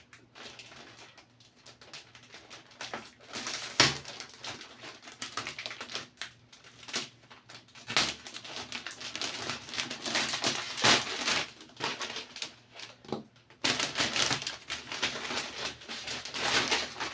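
A well-packed gift box being unwrapped by hand: a continuous stretch of crinkling, tearing and rustling paper and packing, close and busy, with a few sharper rips and no clear talk.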